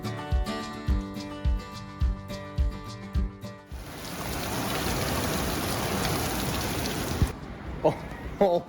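Heavy pouring rain in Minnesota makes a steady, dense broadband wash for several seconds, preceded and followed by rhythmic knocks and clatter from someone working in a garage during an engine rebuild.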